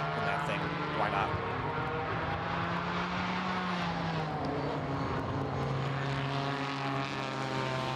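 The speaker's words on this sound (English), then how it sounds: "Just listening to that interesting engine note." Ford-based 3.5 liter twin-turbo V6 race car at a GRIDLIFE track event at Autobahn Country Club, its engine droning steadily with a shifting pitch throughout, under a commentator's voice.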